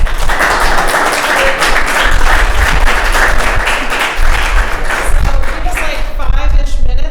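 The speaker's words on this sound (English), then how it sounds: "So let me just a round of applause for." A conference audience gives a round of applause at a bio-based materials event, loud sustained clapping from a large crowd with voices mixed in underneath.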